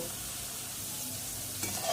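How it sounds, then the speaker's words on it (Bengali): Potatoes frying in oil in a home kitchen pan, a steady broadband sizzle that holds evenly for the whole stretch, with a slight stir or scrape near the end. "আলু লাল করে ভাজা হয়ে গেছে"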